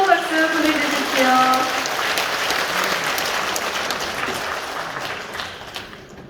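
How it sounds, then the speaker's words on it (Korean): Warm applause from an audience at a political party members' training lecture, a loud, dense burst of clapping with a few voices calling out at the start, then gradually tapering off toward the end. "다시 한번 뜨거운 박수 보내주십시오"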